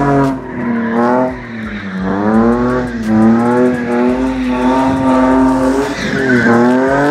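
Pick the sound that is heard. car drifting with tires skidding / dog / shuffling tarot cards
car drifting with tires skidding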